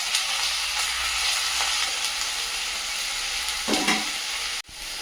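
Banana flower pieces fry in a pan alongside potato, a steady close sizzle with occasional stirring scrapes, cut off abruptly near the end.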